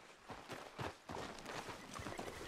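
Horse hooves clip-clop at a walk in Red Dead Redemption 2, with uneven, close-sounding footfalls repeating steadily and no talk.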